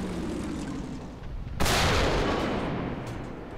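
A single loud, sharp boom from a Centurion Mk10's British 105 mm tank gun firing in War Thunder, a sudden blast over a steady engine rumble, with a short decaying tail.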